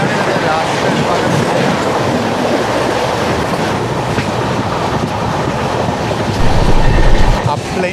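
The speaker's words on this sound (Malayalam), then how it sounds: "സിന്ധുദുർഗ് എക്സ്പ്രസ് ആണ്" Sindhudurg Express train rolling past at close range, a loud steady rumble and clatter of wagons over the rails, swelling slightly toward the end.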